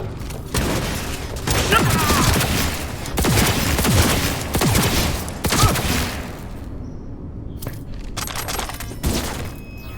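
Heavy gunfire in Cyberpunk 2077 rattles in dense, loud bursts for several seconds, then thins to a few separate shots, while a person talks over the action.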